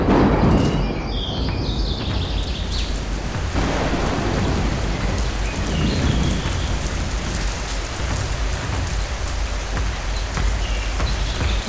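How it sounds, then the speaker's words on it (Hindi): Heavy cartoon-style storm rain, a dense continuous hiss of pouring water on surfaces with a loud thunder crack near the start, steady and close for the whole stretch, no voices. "आसमान पर गहरे सियाह बादल छा गए और जोरदार बारिश शुरू हो गई।"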